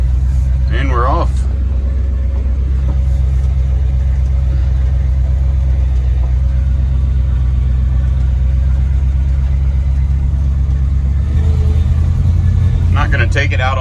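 A 1989 Dodge service truck, freshly dragged dead out of the woods, runs with a steady low engine rumble close by while someone speaks briefly at the start and end.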